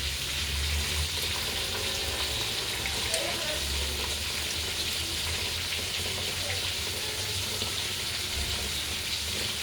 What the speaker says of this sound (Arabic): هننزل ايه بميه مغليه كده بعد ما شوحتهم